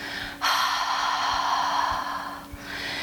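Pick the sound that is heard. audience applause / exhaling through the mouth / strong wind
exhaling through the mouth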